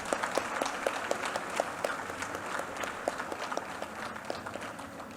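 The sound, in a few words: applause for special guest Sister Lorraine Costa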